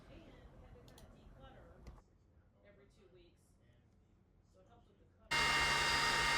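An xTool D1 Pro laser cutter cuts a stitch-hole pattern. The start is quiet, with faint ticks and a low hum, and near the end a loud, steady broadband roar of the exhaust or fan suddenly takes over.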